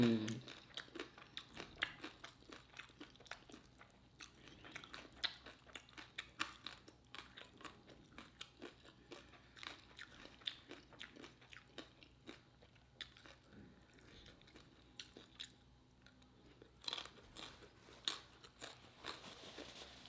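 Crunchy lime-dusted chips dipped in homemade kale dip are bitten and chewed close up, a quiet run of crisp crunches and mouth sounds with occasional louder bites.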